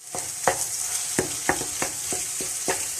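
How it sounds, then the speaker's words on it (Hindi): Makhadi halwa roasting in a pan while a spoon stirs it, giving a low steady sizzle broken by about eight sharp scraping strokes at an irregular rhythm, close and clear, with no talk. "काफ़ी देर आपको ये हलवा जो है भूनना पड़ता है।"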